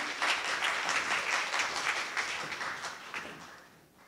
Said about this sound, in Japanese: どうぞ拍手をお送りください